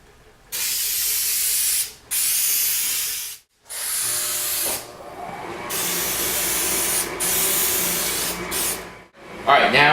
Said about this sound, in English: we're going to do a light coat of spray adhesive on both of these